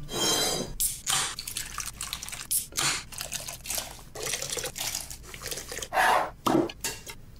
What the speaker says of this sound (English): he starts pouring the alcohol on his leg